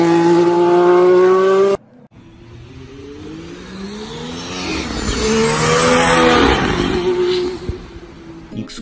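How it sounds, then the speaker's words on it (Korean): Mercedes-AMG One road car carrying a 2015 Formula 1 hybrid powertrain, its exhaust rising in a sustained high-pitched engine howl with climbing revs, loud and close after a brief gap. "익숙한 F1 경주차의 배기음이 양산차에서 나는 신기한 광경을 보셨습니다"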